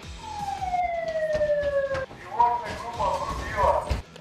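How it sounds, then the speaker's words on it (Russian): A two-tone siren wails at a border guard post, its falling tone sounding steadily for about two seconds before giving way to clattering, shouting and movement nearby. "Предугадать, когда зазвучит сирена, невозможно"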